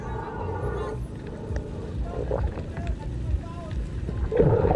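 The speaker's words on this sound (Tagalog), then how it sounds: "Marami kasing bangka na dumadaan dito mga idol kasi pahapon na mga idol, nag-uwian sila galing sa laot." Fishing boats pass by at sea in the late afternoon, a steady low engine rumble mixed with wind noise, while someone talks over it.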